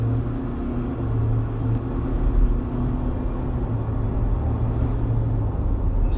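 A 2024 Ford Ranger Wildtrak with a 2.0 biturbo diesel accelerating at full throttle, heard from inside the cab as a loud, steady low engine drone and road rumble with no voices.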